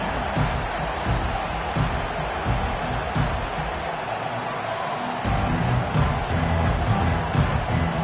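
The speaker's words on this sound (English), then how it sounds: "listen to the roar of this crowd" A stadium crowd at an American football game roars continuously, a dense wash of cheering that swells slightly louder toward the end.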